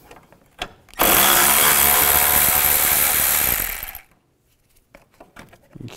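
A power tool spins a 10 mm socket to remove a bolt on a 2005-10 Volkswagen Jetta during a water pump job, one loud, close burst lasting about three seconds before cutting out.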